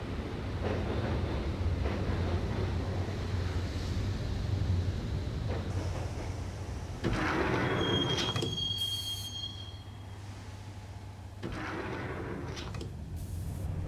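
Inside a subway train in the Max Payne video game, a rumbling ride builds with a loud, high metallic wheel squeal partway through, then settles into a steady rolling drone.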